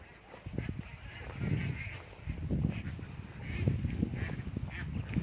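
Several farm ducks quack in scattered bursts at moderate distance, with low outdoor background noise and no clear talk.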